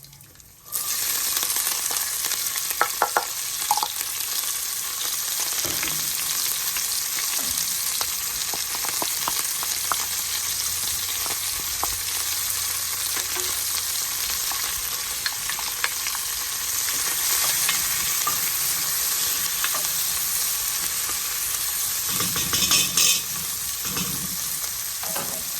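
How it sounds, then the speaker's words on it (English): Garlic and onions fry in a pan for a barbecue sauce, a steady close sizzle and crackle running the whole time, with occasional stirring clinks and scrapes over it. "So we're gonna add the garlic and the onions and fry those up until they are"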